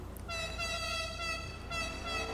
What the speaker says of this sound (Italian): Quando faccio sta trombetta